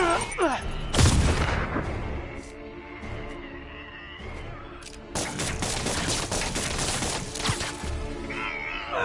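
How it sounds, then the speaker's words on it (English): A loud grenade blast erupts early, set amid sustained rattling gunfire that keeps up on and off throughout, with voices shouting in the background. "Grenade!"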